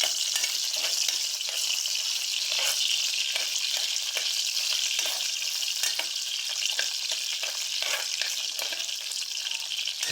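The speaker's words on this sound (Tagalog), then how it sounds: "tira ko na itong luya" Ginger fries in a pan with a continuous bright sizzle, punctuated by frequent short spatters and stirring scrapes, close and steady throughout.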